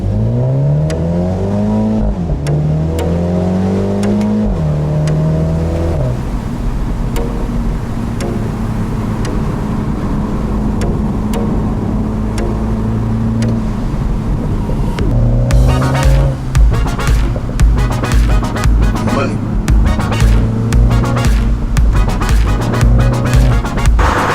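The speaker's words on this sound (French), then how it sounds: "Et on entend le turbo de ce 2 litres qui souffle" A 2018 MINI John Cooper Works Cabrio convertible with a 2-litre turbocharged engine revs up through rising gear pulls, then settles into a loud steady drone with turbo whoosh and ticking, heard close from inside the car.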